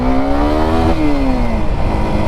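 A Suzuki Gixxer SF motorcycle engine revs hard and steady nearby in first gear, pitch climbing then easing off, loud and continuous with no voices.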